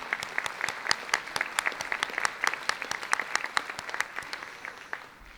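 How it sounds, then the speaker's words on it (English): Applause at a spring commencement reception for 447 graduates, a smaller scatter of distinct hand claps in quick uneven rhythm that gradually thins and fades out. "I'm going to give them another round of applause."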